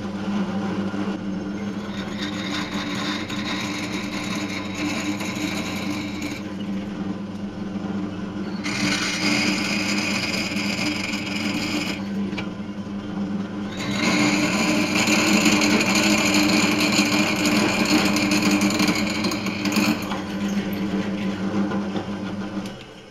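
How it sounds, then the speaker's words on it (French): A drill bores holes with a drill bit while making a wheel puller, a steady motor hum interrupted by several louder stretches of whining, grinding drilling at close range, with no talking. "Il ne faut surtout pas insister, hein, sinon vous allez brûler le bout de la mèche."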